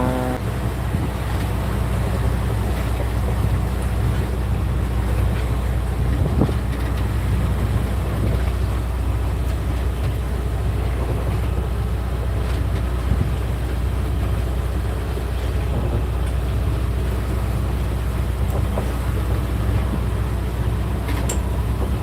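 A sailboat motors under engine power in about 17 knots of wind while leaving an anchorage, with a steady low engine drone blended with constant wind and water noise throughout and no speech.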